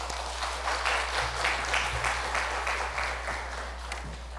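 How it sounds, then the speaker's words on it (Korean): A church congregation at a Friday prayer service claps to welcome the pastor, moderately loud and steady throughout, with individual claps standing out over a low electrical hum and no voices. "우리 목사님 환영하는 박수를 보내주시기 바랍니다"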